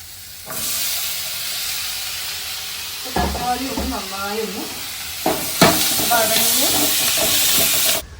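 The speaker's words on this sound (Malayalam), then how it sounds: "അപ്പോൾ നമുക്കിതിലേക്ക് തക്കാളി ഇട്ട് കൊടുക്കാം" Tomatoes hit a hot pan with curry leaves for a Palakkad fish tamarind curry, setting off a loud, sustained sizzling hiss that swells twice as stirring continues, with people talking over it.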